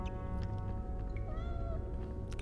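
A cat in a Harry Potter and the Sorcerer's Stone video game gives a short, clear meow over a steady low game background hum.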